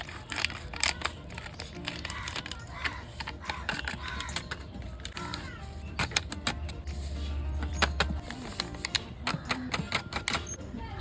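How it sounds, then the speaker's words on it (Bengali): Plastic milk packets being cut open in a home kitchen while making langcha: crisp snips and crinkly plastic rustles come in irregular bursts, close and fairly quiet, with no one talking. "এবার দুধের প্যাকেটগুলো কেটে নেব"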